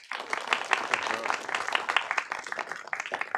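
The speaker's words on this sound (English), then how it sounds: "Let's give them a round of applause." Audience applause in a city council chamber, a short burst of dense, fairly close clapping that begins abruptly and holds steady for a few seconds.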